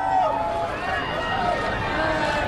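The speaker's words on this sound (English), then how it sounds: "And just listen to the crowd there." A crowd gathered outside Buckingham Palace awaiting a royal baby announcement, heard as a continuous murmur of voices with a few louder calls rising from it, under a nearby voice talking.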